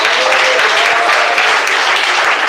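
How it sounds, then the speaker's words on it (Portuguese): A church congregation claps steadily during a Portuguese-language worship service, producing loud, dense applause that fills the whole moment with no pauses. "Receba. Palmas."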